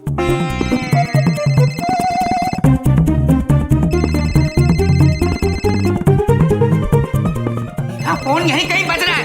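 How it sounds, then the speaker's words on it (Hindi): A phone ringtone plays as a bright, repeating electronic melody, loud and close, mixed in with busy background music and voices throughout. "फोन यहीं कहीं बज रहा है"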